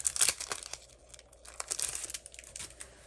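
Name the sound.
Stampin' Cut and Emboss machine and embossing folder being handled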